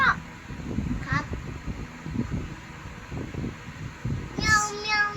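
A voice imitates a cat meowing during an animal-sounds game, a few short high mewing calls near the start and end, with low murmuring and background noise between them.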